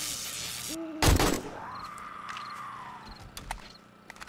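A bird hoots in the survival video game 7 Days To Die, a low wavering call lasting a couple of seconds after a sharp loud impact, set against game ambience with faint scattered clicks and knocks.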